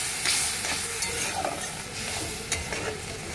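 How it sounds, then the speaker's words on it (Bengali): A spice paste sautés in a pan with a splash of water, bubbling and spitting while a spoon stirs and scrapes in uneven strokes, close and fairly loud. "এই মশলাটাকে ভালো করে আমি কষিয়ে নিচ্ছি।"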